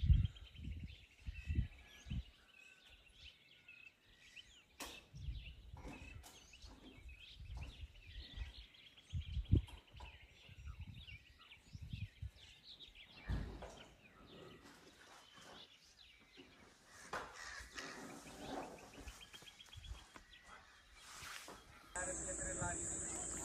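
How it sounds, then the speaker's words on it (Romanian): Various birds chirp and call intermittently outdoors in the African savanna, fairly faint, with scattered clicks, rustles and low knocks between the calls. "Se aud tot felul de păsări și de,"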